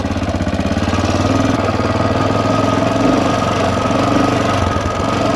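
A Honda XR500 single-cylinder motorcycle thumps loudly and steadily along a dirt trail, its rapid engine pulses close and continuous throughout with no pauses or talk.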